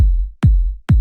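Three booming EQ-processed kick drum hits, evenly spaced, each with a punchy attack and a deep low tail, alone and loud.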